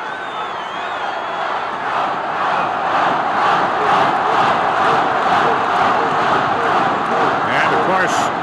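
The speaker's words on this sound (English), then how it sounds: "the crowd all for the one and only Hulk Hogan" A packed arena crowd at a 1985 professional wrestling event cheers and roars loudly and continuously, a dense wall of shouting and cheering sustained throughout with no pauses.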